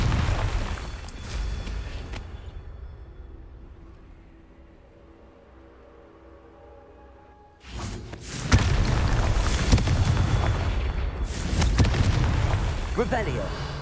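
Confringo fire spell explosions in the game Hogwarts Legacy on PS5, loud broadband blasts erupting around a quieter lull, with a sustained roaring burst late on and spoken voice at times.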